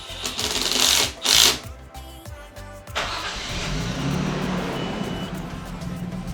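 A Nissan R32 Skyline GTST in a home garage: mechanical clicks and a short whirring crank, then the engine catches and settles into a steady, close idle rumble.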